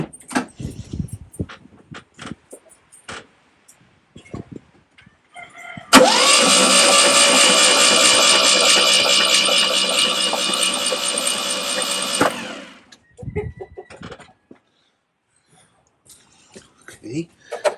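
A rusty Fiat 126 is cranked for about six seconds, a loud steady starter whir with a rhythmic churning that slows slightly before stopping, between clicks and clatters, with no catch.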